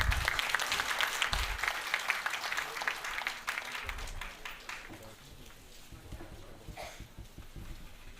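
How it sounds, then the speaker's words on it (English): Applause at a healthcare providers' association event in India, a moderately loud crowd clapping that gradually thins and fades over several seconds, with scattered claps lingering. "Can we have a round of applause, please?"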